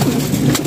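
A racing pigeon coos loudly and close by, a brief low throaty murmur.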